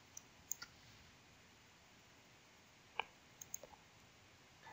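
Computer mouse clicks tick faintly in a quiet room, a few isolated sharp clicks scattered over several seconds against low background hiss.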